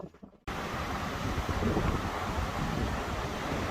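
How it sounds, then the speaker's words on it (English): Cold wind in roughly 45-degree weather buffeting a microphone outdoors in Louisiana, a loud, rough roar that bursts in suddenly after a quiet moment and then stays constant. "So the wind is into my face and my mouth is like frozen right now."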